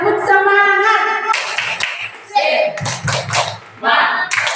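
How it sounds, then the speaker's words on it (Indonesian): A standing group performs tepuk semangat, a rhythmic spirit clap at an Indonesian teacher training session, with bursts of sharp claps alternating with a leader's voice and loud group chanting. "Tepuk semangat."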